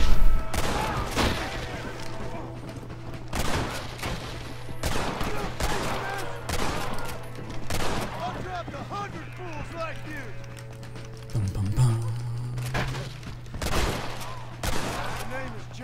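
Repeated gunshots crack out in a Red Dead Redemption shootout on a porch, spaced sharp reports with some close and some distant, while a voice talks over the fighting.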